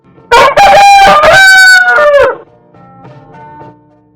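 A rooster crows once, loud and near, a long cock-a-doodle-doo that fades into quiet faint clucking afterward.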